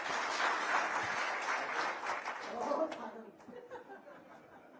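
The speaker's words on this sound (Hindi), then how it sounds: "अरे जबरदस्त तालियां बजाओ" Applause from the audience at a state government event, moderate clapping mixed with chatter and some chuckles, fading and thinning toward the end while voices continue.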